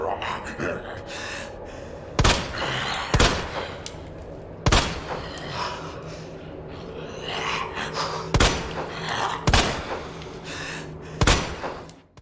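Leon's gun firing in Resident Evil 2 Remake, about seven loud, sharp single shots spaced irregularly over tense game ambience with occasional gasps and thuds between them.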